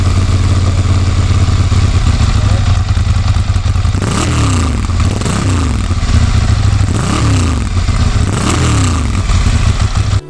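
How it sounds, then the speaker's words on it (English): The Ducati Monster 796's L-twin desmodromic engine idles with a deep, throbbing exhaust burble, then blips the throttle in four or five sharp revs that rise and fall in quick succession, loud and close with no talking. "uses Ducati's famous desmodromic valve system, which really makes that exhaust note super sweet"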